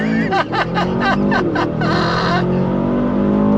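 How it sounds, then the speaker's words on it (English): Aston Martin DBX 707 SUV with a 4-liter twin-turbo V8 launching from a standstill under launch control, its engine note rising through quick shifts in a loud, rasping pull before settling to a steady drone. "The sound of that 4-liter twin turbo V8 is an eargasm"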